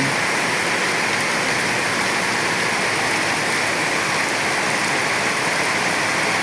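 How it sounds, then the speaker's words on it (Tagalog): Heavy rain pours down steadily in a dense, continuous roar, loud and close, with no voices. "Lakas yung ulan. Ang lakas yung ulan."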